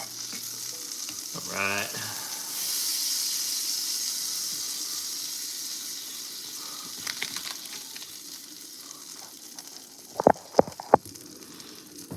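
Steak frying in a cast-iron pan gives a steady, close sizzle throughout, with a brief spoken remark near the start and a few sharp clanks and taps toward the end.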